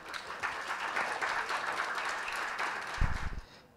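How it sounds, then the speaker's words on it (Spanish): A live audience applauds to welcome a speaker, a magistrate of the criminal chamber of the Superior Court of Medellín, with steady clapping throughout that swells briefly near the end before fading. "Démosle la bienvenida con un fuerte aplauso"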